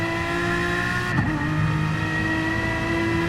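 Race car in a racing video game accelerating out of a chicane, a steady droning engine whine rising slightly in pitch, with a brief scuffing transient partway through.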